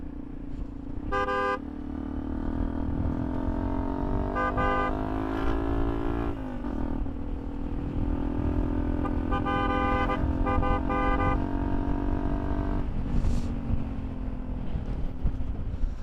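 On a mountain road, a passing vehicle's horn sounds in several bursts of repeated toots, some long and some clipped, loud and close over the steady drone of a motorbike engine and wind.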